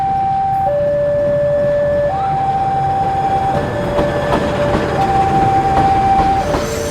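An Indonesian passenger train with a generator coach rolls past, its steady rumble carrying a loud, sustained stepped horn-like tone that shifts pitch several times, with no talk.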